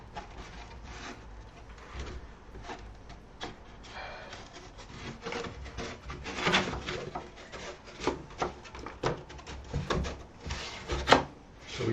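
Wooden guitar part pressed into place and clamped in a guitar-making workshop, a run of small knocks, taps and rubbing scrapes with a few sharper clicks, close and fairly quiet.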